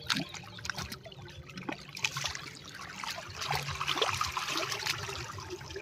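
Strong river water rushing and gurgling in a tidal Sundarbans channel where shrimp are caught with a fixed net, a dense, steady broadband wash with small splashes, close by and continuous.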